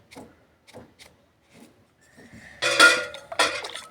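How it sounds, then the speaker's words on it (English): A spoon clinks and scrapes in a cooking pot of soup in a home kitchen, with a few soft knocks followed by a louder burst of metallic clatter near the end. "This is how we mix the soup."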